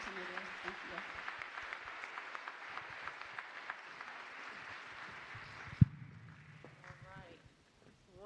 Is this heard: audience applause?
yes